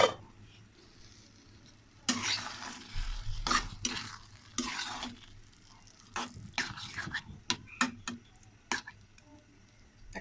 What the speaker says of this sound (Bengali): একটু উল্টিয়ে পাল্টিয়ে ভালো করে রান্না করে নেব,